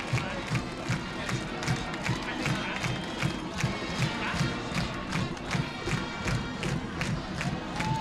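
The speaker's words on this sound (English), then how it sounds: "They're on their feet just cheering for that play." A high school varsity football crowd, Mattawan versus Grand Ledge, keeps up a loud, steady cheer with yelling and scattered clapping for a big defensive play, a roar that holds across the whole stretch.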